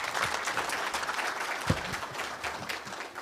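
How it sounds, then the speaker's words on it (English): A seated audience at the launch of KRA's 8th corporate plan gives steady applause to the Honorable Cabinet Secretary, a dense continuous clatter of clapping hands with no voices over it. "another round of applause for the Honorable CS"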